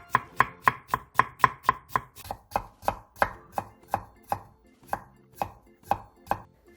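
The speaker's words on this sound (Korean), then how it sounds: "애호박 1개를 길게 어슷 뒤 다시 길게 채 썰어주세요." A knife cuts zucchini into long thin strips on a cutting board as part of a stir-fried zucchini and fish cake side dish, giving about twenty crisp, evenly spaced chops, close and alone.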